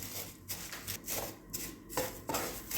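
Roasted vermicelli being broken up and lightly toasted in ghee in a pan, giving a few irregular close crackling, scraping bursts with short pauses between them, no talking.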